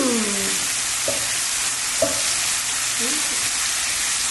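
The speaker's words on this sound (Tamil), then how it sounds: "பாருங்க, வெங்காயம் சேர்த்துட்டு நம்ம நல்லா கலந்துக்கலாம்." Chopped onion sizzles and crackles in hot oil with cumin seeds, a steady broadband frying hiss with a few soft stirring knocks from a spoon against the pan.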